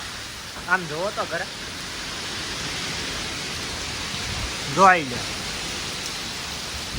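Heavy rain pours in a steady, dense hiss throughout, while a couple of brief voices speak over it.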